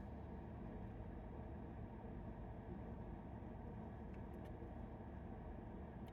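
Road traffic on a four-lane road makes a steady, dense roar that continues throughout, with no voices.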